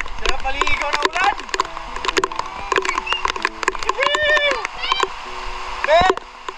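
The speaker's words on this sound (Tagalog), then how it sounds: "Buhos ng ulan!" Heavy rain pours down in a steady, hissing roar in the rural Philippines, with excited voices shouting and laughing in Filipino over it.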